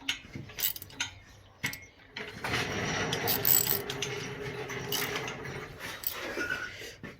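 A car jack is lowered under a car during a turbo install, heard as a run of close mechanical ratcheting clicks that gives way to a steady clattering and rattling, moderately loud, with no talk.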